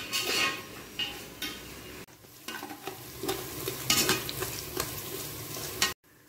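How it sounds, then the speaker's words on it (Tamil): Ginger garlic paste sizzles in hot oil with onions for mutton biryani, with stirring and scraping of a spoon against the pan in bursts, close and moderately loud with a brief break midway. "அந்த டைமில் வந்து இப்போ நம்ம வந்து இஞ்சி பூண்டு பேஸ்ட் போட போகிறோம்"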